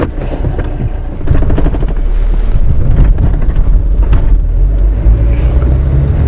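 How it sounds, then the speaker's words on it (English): A Honda Civic Coupe EX with a D17 engine and a newly fitted Stage 3 Yonaka six-puck clutch judders as it engages, a steady low rumbling shudder with no talk over it. "there's a lot of clutch chatter, which I was sort of expecting"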